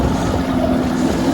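Motorboat running out on a lake, a steady close engine drone with wind and water rush continuous throughout, no voices.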